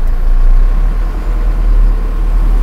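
Mercedes Unimog camper truck on a locally built aluminium chassis pulls away in second gear, a loud, steady low diesel rumble that holds strong throughout with no voices.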